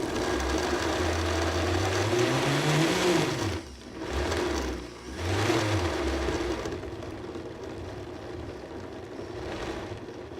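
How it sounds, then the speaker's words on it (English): A blender pulsing tomatoes, onions and jalapenos into salsa, a loud steady motor whir with pitch dips between pulses before running on continuously. "simply add the tomatoes, onions, and jalapenos to a blender. Pulse until it becomes smooth"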